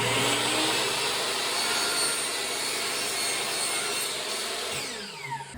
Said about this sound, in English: I'm going to leave the saw the exact same way that it was and make this cut.